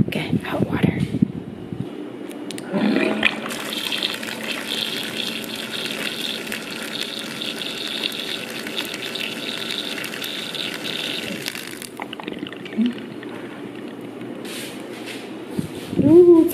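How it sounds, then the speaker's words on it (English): Hot water from a dispenser gushing steadily into a cup of Taiwanese instant beef noodles for about eight seconds, close by, with someone talking before and after the pour. "Okay, I'm gonna add hot water."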